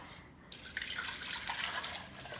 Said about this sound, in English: Now I'm going to put the soup inside.